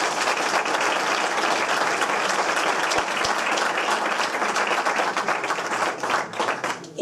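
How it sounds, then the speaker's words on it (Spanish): Audience applause at a candidacy presentation in Valladolid: loud, dense and steady clapping across the whole stretch, easing slightly at the very end. "Un aplauso para Doris."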